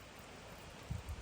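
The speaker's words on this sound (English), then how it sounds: "that little noise you hear is rain in the background." A faint, steady hiss of rain falls in the background, with a couple of soft low thumps near the end.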